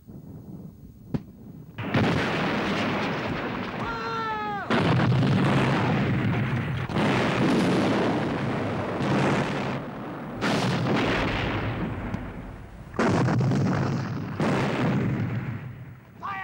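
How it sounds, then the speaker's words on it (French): Artillery fire in a Napoleonic Waterloo battle scene at Mont-Saint-Jean: repeated heavy booms and bursts, loud and dense, with a rolling, continuous roar of cannon fire and crackling shots filling the whole stretch. "Lorsque les premiers assauts de l'artillerie française sont donnés au Mont-Saint-Jean"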